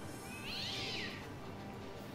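A kitten cries in Divinity: Original Sin, one drawn-out wavering meow rising and then falling, faint and alone over quiet background ambience.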